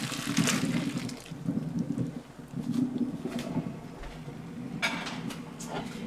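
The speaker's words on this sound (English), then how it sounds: "I'm just going to pour my pasta into my colander." Cooked gluten-free pasta and its water are poured into a colander in a kitchen sink, a close, uneven sloshing splash with gurgling and a few sharper spatters.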